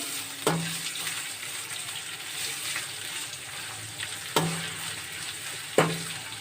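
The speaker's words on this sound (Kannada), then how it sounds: "ಚಟಪಟ ಅಂದಾಗ ಕಟ್ ಮಾಡಿರುವಂತಹ ಈರುಳ್ಳಿಯನ್ನು ಸೇರಿಸ್ಕೊಳ್ಳಿ ಈರುಳ್ಳಿಯನ್ನು ಕೆಂಪು ಫ್ರೈ ಮಾಡ್ಕೋಬೇಕು" Chopped onions frying in hot oil for a home-style fenugreek rice dish, a steady close sizzle with a few sharper clatters of a spoon in the pan.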